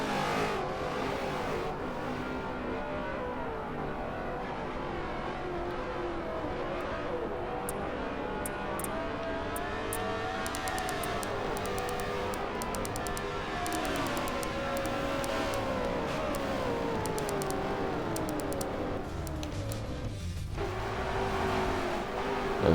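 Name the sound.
race cars at speed on track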